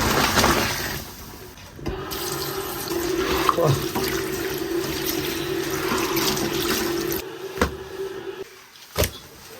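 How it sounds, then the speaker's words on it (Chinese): A lamb head is rinsed under a running kitchen tap. Water gushes and splashes steadily and close for most of the stretch, then tapers into a few intermittent splashes near the end. "头拿喽，焯水给它洗一下"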